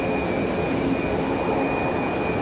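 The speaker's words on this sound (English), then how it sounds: "we're looking at Iceland in that 737 MAX 9 headed back to Reykjavik" An Icelandair Boeing 737 MAX 9 airliner gives off a steady, broad jet roar at moderate distance, continuous and even for a couple of seconds with no voices over it.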